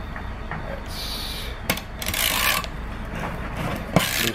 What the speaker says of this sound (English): Nope, I'm gonna need a wrench.